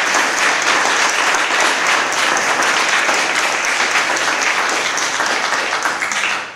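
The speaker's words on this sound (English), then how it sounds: "Let's please applaud him together." Audience at a poet laureate recognition ceremony breaks into sustained, dense applause, loud and steady throughout with no talking over it, easing off only at the very end.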